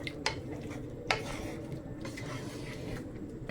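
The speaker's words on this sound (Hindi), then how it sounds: "अब हम इसको अच्छी तरह से भूनते हैं।" Chicken with softened tomatoes is stir-fried in a pan, a low sizzle under a couple of sharp clinks of a spoon against the pan and soft scraping, close and fairly quiet.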